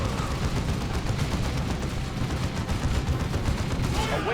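Continuous gunfire from the video game Dawn of War 2: Retribution, a steady dense clatter of shots and battle noise filling the whole stretch at constant loudness, with no voices on top.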